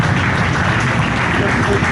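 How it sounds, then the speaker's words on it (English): Applause for the two winning anglers at a bass fishing tournament weigh-in, a dense steady patter of crowd clapping mixed with chatter, fairly loud throughout. "Give a round of applause for these two gentlemen right here."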